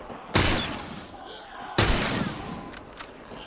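Two loud, sharp gunshots ring out in The Last of Us, about a second and a half apart, each followed by a decaying echo, with quieter game sounds between them.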